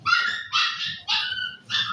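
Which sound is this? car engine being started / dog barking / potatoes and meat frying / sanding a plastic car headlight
dog barking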